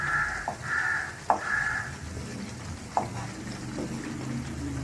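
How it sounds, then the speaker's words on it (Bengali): Monmohini sweets frying in a pan until reddish make a soft, steady sizzle, while a crow caws loudly several times nearby and a couple of sharp knocks ring out. "এইভাবে আমি লাল লাল করে এগুলো ভেজে নেব।"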